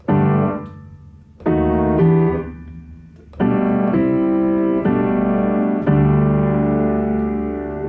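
Sustained piano chords ring out one after another, each struck firmly and left to decay before the next, forming a slow progression.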